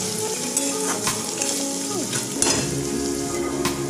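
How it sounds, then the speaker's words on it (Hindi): Onion fries in oil in a pan for batata poha, a dense close sizzle with occasional spoon scrapes and clinks against the pan. "प्याज को हमें इसी में भूनना है अच्छे से।"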